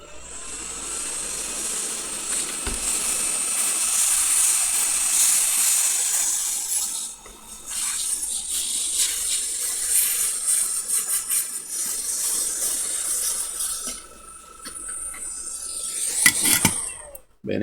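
Water rinsing the parts of a Game Boy Advance SP during repair, a continuous close hissing spray with some rises and dips, ending in a few sharper splashes and knocks.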